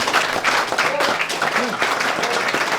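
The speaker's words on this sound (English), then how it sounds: "Give him a round of applause" Audience applause at a vintage guitar show clinic, a dense wash of clapping filling the short span while voices speak over it.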